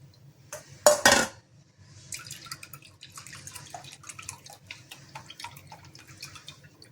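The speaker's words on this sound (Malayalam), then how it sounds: "ഇതുപോലെ ഒരു പാത്രത്തിലോട്ട് വെച്ചിട്ട് നമുക്ക് നന്നായിട്ടൊന്ന് അരിച്ചെടുക്കണം" Boiled herbal liquid being strained into a vessel, a loud clattering of the metal pot at the start, then a trickling, dripping pour of liquid with small splashes continuing throughout.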